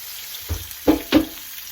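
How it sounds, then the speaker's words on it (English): Bell pepper and onion sizzle in a pan, a soft frying hiss broken by three short bursts of louder crackle about a third of a second apart, close by with no talk. "this my bell pepper, my onion that I have over here cooking"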